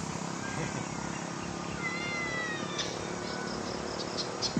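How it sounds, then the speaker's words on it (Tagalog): Cats kept by an elderly man meow in a few drawn-out calls over a constant bed of insect chirping and outdoor hiss, moderately near with a couple of sharp sounds at the end. "Yung mga pusa, kaalaga ni tatay."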